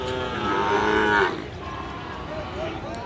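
Cattle, including Sahiwal cows, low loudly and nearby, a long drawn moo followed by fainter calls from other animals amid steady outdoor cattle market noise.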